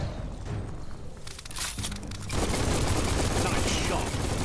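Gunfire in the video game Biomutant: after a quieter opening, a dense, loud burst of rapid shots fills the second half of the clip.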